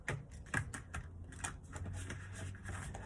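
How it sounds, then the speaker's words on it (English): Tarot cards shuffled by hand in a quiet room, a steady run of soft, close riffling and tapping clicks with a low hum underneath and no talking. "I'm building up my shuffling confidence."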